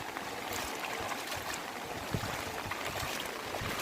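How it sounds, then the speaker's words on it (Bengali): Floodwater rushing across a road, a steady broad wash of flowing water with low churning rumbles, close and fairly loud, with no voices. "আর দেখতে পাচ্ছ এই রাস্তার উপর দিয়ে জল যাচ্ছে পেরিয়ে, কত জল"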